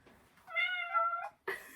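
A single kitten gives one drawn-out meow, close and fairly clear, followed by a brief sharp sound.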